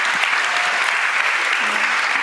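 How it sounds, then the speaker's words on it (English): Audience applause for a panel at a youth summit fills the room, a steady dense clapping that holds at an even level throughout with no talk over it. "Give them a round of applause, come on."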